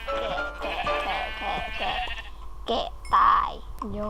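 Sheep bleat in Minecraft, several wavering cries close by, mixed with a person chattering rapidly over them.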